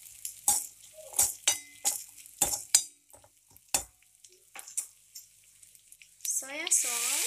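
Red onion dropped into a hot pan with green chili and ginger for chilli paneer, heard as a series of loud, sharp sizzling bursts and stirring scrapes, ending with a brief voice and a rising hiss.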